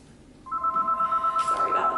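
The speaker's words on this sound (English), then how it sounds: "sorry about the phone" A telephone starts ringing indoors in a house, a steady pulsing electronic ring that begins partway in and repeats rapidly, close and prominent, with no talking.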